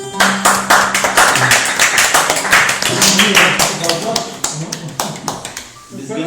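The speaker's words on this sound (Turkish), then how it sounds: "Alkış alkış alkış" Audience clapping in quick, rhythmic bursts at a performance, continuing steadily with a voice heard over and between the claps.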